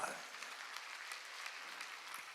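Congregation applauding at a church revival meeting, a steady wash of many hands clapping at moderate distance throughout, with no clear talk on top.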